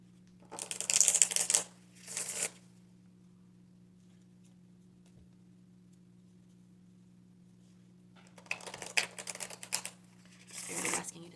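Tarot cards being shuffled and drawn, heard as several brisk bursts of riffling near the start and again toward the end, separated by a long quiet stretch over a steady low hum.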